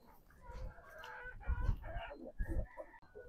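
Backyard chickens, including a Brahma hen, clucking and chattering close by in short, uneven bursts with faint background noise.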